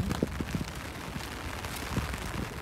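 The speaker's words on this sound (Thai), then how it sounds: "ฝน" Rain falling steadily outdoors during a walk gathering wild greens, a continuous soft hiss with scattered heavier drop impacts, close and fairly quiet, with no talking.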